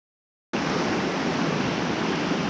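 A heavy volume of river water rushes past steadily. The roar is broad, loud and unbroken, starting abruptly after a half-second of silence, with no voices.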